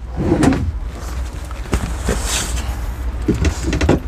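A large drawer in the underfloor storage compartment of a 2019 Pilote V630G camper van slides open or shut, with scraping rumbles and a few soft knocks, close by.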